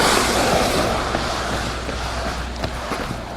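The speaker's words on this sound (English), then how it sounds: "with all this traffic noise" Road traffic makes a steady, washing outdoor rumble that is fairly loud and continuous, with faint passing swells and no clear voices on top.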